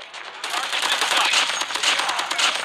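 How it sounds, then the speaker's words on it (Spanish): Rapid bursts of automatic gunfire in Call of Duty Mobile, coming from behind the player, starting abruptly and continuing as a dense, loud, sustained rattle to the end. "Ay, me están disparando por detrás."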